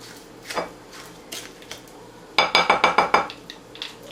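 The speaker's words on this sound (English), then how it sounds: "you will mix it up with a spoon or your hands, whichever you like" A spoon mixes meatball mixture for spaghetti and meatballs in a bowl, giving a few scattered clinks and then a quick run of about eight sharp, close taps against the bowl.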